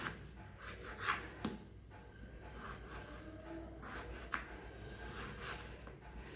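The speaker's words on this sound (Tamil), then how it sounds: "அடுத்தது நம்ம உருளைக்கிழங்கு கட் பண்ண போகிறோம்." A kitchen knife slices potatoes on a cutting board while vegetables are prepared for a vegetable biryani, giving soft rasping and scraping strokes with a few sharper taps, close and fairly quiet.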